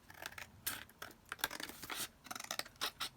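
Scissors make a rapid series of sharp snips and scratchy cuts while trimming material down along one side, close and fairly quiet, with short pauses between bursts.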